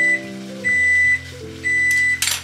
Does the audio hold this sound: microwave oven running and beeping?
yes